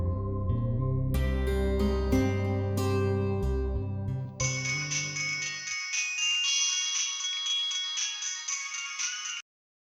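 A phone ringtone plays loudly during a call, a bright repeating melodic jingle with bass accompaniment that switches to a high-pitched tinkling pattern partway through before cutting off abruptly.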